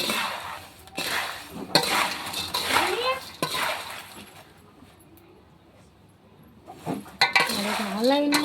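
A spoon scrapes and clinks against a dish as a savory snack mix gets stirred, with irregular bursts of rattling and chinking that come and go, then pick up again at the end.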